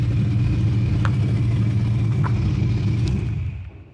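A Cobra car engine with no exhaust fitted idles with a loud, deep, steady rumble, close and unbroken, with a few faint ticks, then fades at the very end.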